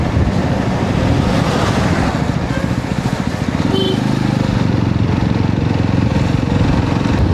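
A motorcycle cruises along the Dehradun Expressway at about 75–80 km/h against a strong headwind, its engine droning steadily beneath loud, close wind buffeting.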